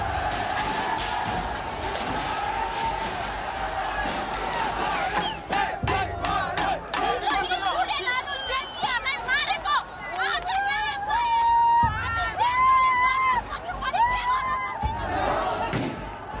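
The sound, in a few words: crowd storming the federal parliament building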